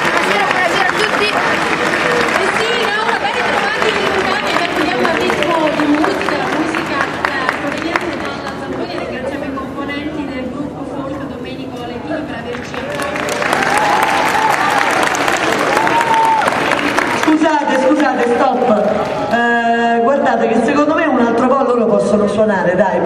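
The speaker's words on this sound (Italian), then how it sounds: "grandi applausi" A live audience applauds steadily at an evening event, dense clapping with crowd noise and some chatter, easing off midway, then swelling again before fading under music and voices near the end.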